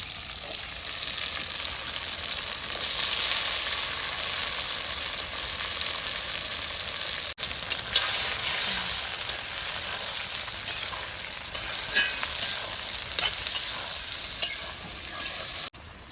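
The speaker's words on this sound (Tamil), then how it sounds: "இந்த நல்லெண்ணெய்க்கும் அந்த சின்ன வெங்காயம் வதங்குறக்கும் வாசம் அப்படியே இருக்குங்க" Shallots sautéing in sesame oil in an iron pan for mutton varuval, a dense, bright, continuous sizzle with constant stirring scrapes, close and loud, no talking.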